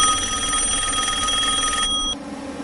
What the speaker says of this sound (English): The phone rings at Billy Bob's house.